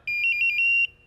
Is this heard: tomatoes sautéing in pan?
no